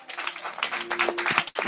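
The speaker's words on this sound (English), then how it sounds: "Can we clap our hands?" A church congregation claps their hands together in a dense burst of applause lasting under two seconds, with a steady sustained tone sounding beneath it.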